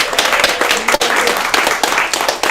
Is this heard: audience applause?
yes